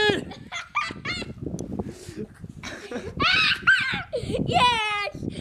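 Chicken clucking and squawking in the Chicken Diaper video game, shrill repeated calls close up, mixed with excited voices talking and shouting.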